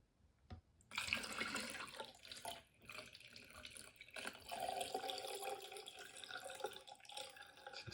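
Water runs steadily from a tap into a container for home film developing with Rodinal, a close, continuous splashing stream after a brief click.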